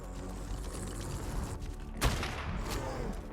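Long neck rifle fire in the ARK video game, a single sharp shot over a steady bed of noisy game ambience, with no talking.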